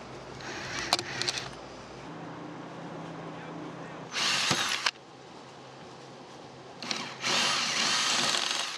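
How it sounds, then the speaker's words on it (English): A power drill whirs in several short bursts, high-pitched and close, drilling out rivets on a sailboat's coach roof, with quiet pauses between each spell of drilling. "Drill out the rivets."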